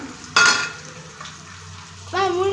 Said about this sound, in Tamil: இப்போ பார்த்தீங்க அப்படின்னா வெங்காயம் சீக்கிரம் வதங்கி வரணும்